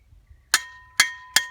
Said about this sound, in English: this stake is put in, I just tap it in a little bit